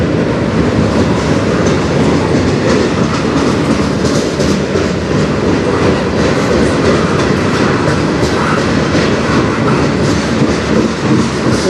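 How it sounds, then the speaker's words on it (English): A CN freight train rolls past on the Strathroy Subdivision, a loud, close, continuous rumble with rhythmic clickety-clack of wheels over rail joints and occasional squeal, sustained for the whole stretch with no voices. "This is the first train that's been a while"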